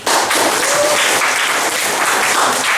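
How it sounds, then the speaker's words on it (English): Audience at a student freshers comedy gig breaks into dense, loud clapping that holds steady and fills the room for a few seconds, with no talk over it. "Clap now."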